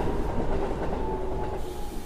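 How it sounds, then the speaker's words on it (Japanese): A train rumbles steadily nearby with a low rolling roar and a faint tonal whine from the wheels, continuous throughout. "あ、電車が来るよ。"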